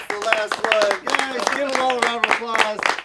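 An audience at an improv comedy show applauds, with steady clapping mixed with cheering voices and loud, lively calls throughout.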